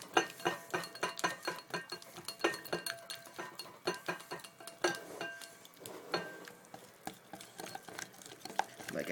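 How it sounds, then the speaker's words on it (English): A whisk beats pizza dough mixture with olive oil in a bowl, ticking and clinking against the sides in a quick, steady rhythm, fairly faint and close. "you're going to whisk this again until it all comes together"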